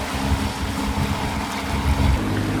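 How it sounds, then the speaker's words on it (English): A sailboat motoring along under engine power alone, a steady low drone of the motor with wind and water rushing past, continuous and fairly loud throughout. "I'm only going under the motor at the moment."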